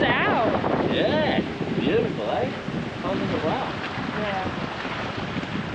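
An aluminum catamaran sails with its screecher set in about 15 knots of breeze, steady wind rush and water hiss throughout, with people talking briefly over it.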